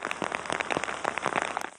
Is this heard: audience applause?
no